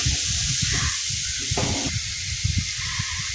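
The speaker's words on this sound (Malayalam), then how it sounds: "നമ്മൾ അരിഞ്ഞു വെച്ച സവാള അതിലേക്ക് ഇട്ട് കൊടുക്കുക" Chopped onions frying in hot oil in a pan, a loud, continuous close sizzle and hiss lasting throughout with faint clatter underneath.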